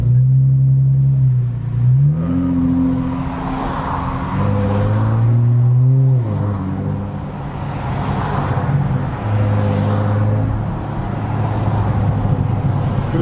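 A modded Chrysler 300 accelerates onto a freeway, its engine note climbing and dropping through gear changes, loud and droning from inside the car, with road noise underneath.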